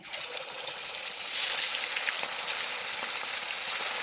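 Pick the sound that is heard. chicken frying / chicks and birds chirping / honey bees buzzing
chicken frying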